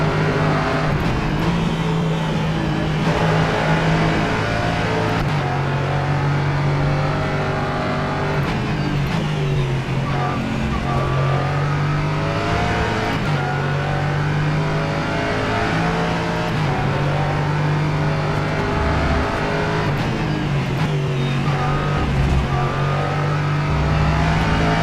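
A Norma M30 LMP3 race car laps Road Atlanta in the rFactor 2 racing game: a continuous, loud engine drone rises and falls in pitch with repeated revving and gear shifts throughout, no voices.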